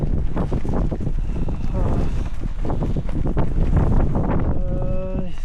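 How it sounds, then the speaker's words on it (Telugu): Strong wind blowing across a desert at night, loud gusty buffeting and rumbling against the microphone throughout, with moaning, voice-like tones riding on it. "ఓహో, ఈ గాలి ఇట్లా కొడుతుంది."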